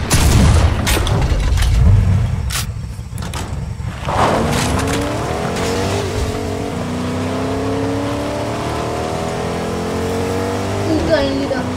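A car engine revs and climbs through rising pitches, with a boom and skidding early on, sounding close and steady throughout.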